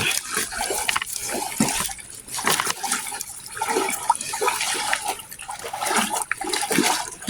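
Water pours and splashes from a container outdoors near a stream, with a steady broadband rushing and trickling that swells and dips in uneven surges throughout.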